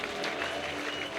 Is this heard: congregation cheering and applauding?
yes